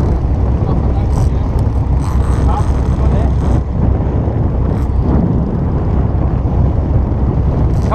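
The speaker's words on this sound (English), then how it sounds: "Just one engine, just ticking along gently." A steady, loud low drone of a single boat engine idling gently off the Isle of Wight, with wind buffeting the microphone and faint voices underneath.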